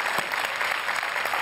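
Studio audience at a Marathi television talk show applauding, a dense, steady wash of many hands clapping close by with no pause.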